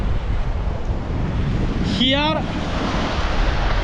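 Steady wind roars and buffets the microphone on a fishing coast, loud and constant throughout, with surf-like rushing beneath and a brief word spoken midway.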